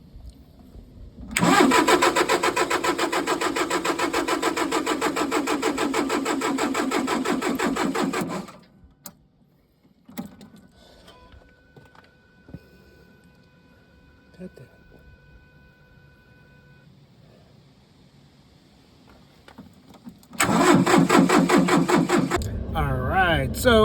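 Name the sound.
tractor engine starting and running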